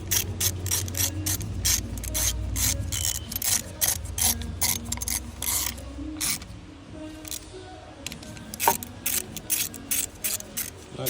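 A hand ratchet clicks rapidly in bursts while three bolts go back onto the alternator of a 2012 Buick LaCrosse Hybrid. The close, crisp pawl clicking pauses briefly between runs, with a faint hum underneath and no talking.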